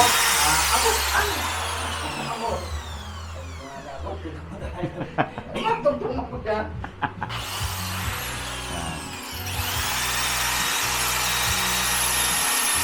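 A drill grinds with a high, steady whine through tempered glass cooled with water, pausing midway amid clatter and brief talk, then whirring on again loudly.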